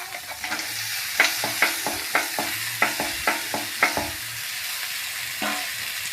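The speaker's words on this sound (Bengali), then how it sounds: "এখন দিয়ে দিব ভেজে রাখা মাছের মাথাগুলা" Pre-fried fish heads are stirred into cooked masala in a pan for a mung dal dish, with a rhythmic run of spoon scrapes and clacks over a steady sizzle.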